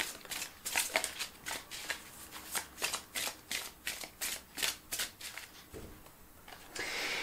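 Oracle cards being shuffled by hand in a quiet room make a regular series of close riffling bursts, one after another, with a softer shuffling rustle at the end and no talking.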